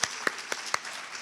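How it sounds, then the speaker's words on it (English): Audience applause at an APIDA Heritage Month festival, just four sparse, faint claps spread across about a second. "Can we give a round of applause wherever you are?"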